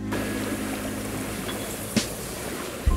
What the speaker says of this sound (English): Wind in the middle of the lake.